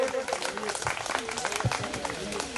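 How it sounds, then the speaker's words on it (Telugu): An audience claps at a D.M.H School Karthika Vana Samaradhana gathering, a dense rattling applause heard under someone talking loudly close by. "క్లాప్స్ కొట్టుకోండి"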